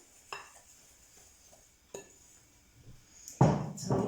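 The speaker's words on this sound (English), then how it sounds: "I'm just mixing that round now," A spoon stirring oats and dry ingredients into syrupy Anzac biscuit mixture in a bowl gives a few sparse scrapes and taps, then louder, closer scraping near the end, with no talk.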